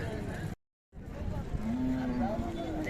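A Khillar cow gives a long, low moo amid the bustle of the Sangola cattle market in Solapur, with voices and background noise around it after a brief dropout.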